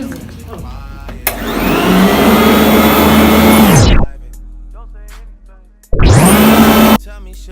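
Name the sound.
Gazelle vacuum cleaner running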